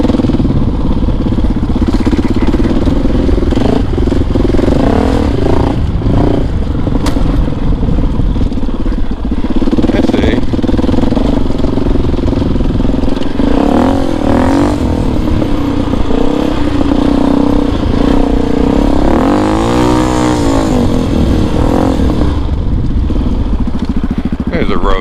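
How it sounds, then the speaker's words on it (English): A motorcycle ridden along a road, its engine droning steadily and loudly the whole time with wind buffeting, while a rider talks over the noise. "The bike is a little noisy."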